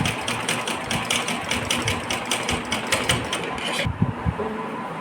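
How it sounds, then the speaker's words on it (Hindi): A sewing machine stitches a fabric strip for a deity's outfit, a close, rapid mechanical whir running steadily and then easing into slower thumps near the end. "पूरी पट्टी हमें सिलाई करनी पड़ेगी नीचे से"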